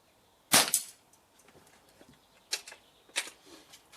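A Weihrauch HW97KT spring-piston air rifle fires with a sharp crack, followed by faint later metallic clicks of a 13mm hunter field target knockdown target being struck, several distinct bursts spaced over a few seconds outdoors.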